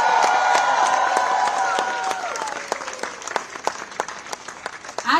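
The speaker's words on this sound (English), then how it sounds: "A big round of applause to all the friends and fans of India House." A crowd at India House, celebrating Indian Olympic athletes, claps steadily with scattered cheers and whoops, loud at first and then thinning into sparser, uneven claps.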